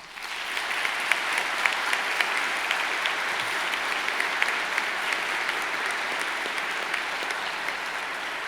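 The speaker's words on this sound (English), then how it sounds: "show them your appreciation by a round of applause" Applause at a university graduation ceremony, a broad, even roar of many hands clapping in a large hall, sustained at a steady level for over eight seconds without talk.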